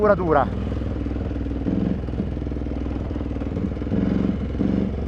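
A KTM 950 Adventure carbureted Dakar rally motorcycle from 2003 runs with a throbbing engine and short throttle blips, close to the rider, while someone talks over it.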